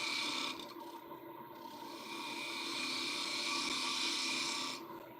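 A wooden lampshade spinning on a woodturning lathe while a cutting tool shaves off a layer, giving a steady, continuous rasping hiss that swells slightly mid-way, with the lathe's hum underneath and no talking.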